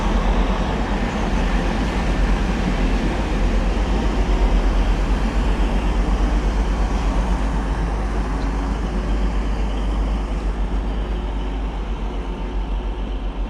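Two coupled Class 185 diesel units, 185102 and 185151, departing Doncaster station for Cleethorpes: a continuous loud rumble and engine drone with rail noise, steady throughout and easing slightly toward the end.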